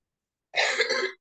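A single cough, close and fairly loud, from someone speaking during an online class, a short harsh burst lasting about half a second with no talk around it.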